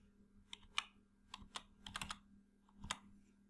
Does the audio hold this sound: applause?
no